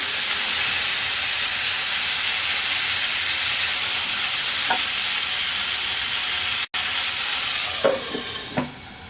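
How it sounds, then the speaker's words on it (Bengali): Hariyali chicken kebabs sizzle in a pan on the stove, a steady bright hiss close up, with a few soft knocks near the end as pieces are turned over. "আবারও চিকেনটাকে উল্টিয়ে দিচ্ছি।"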